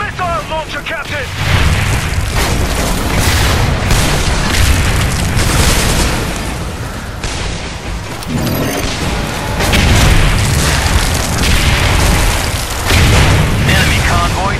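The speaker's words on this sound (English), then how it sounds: "Use the missile launcher, Captain!" Missile launcher explosions hitting a convoy in the Section 8 video game, heavy continuous booming and rumbling blasts, loud and dense, with game voices shouting over the battle noise.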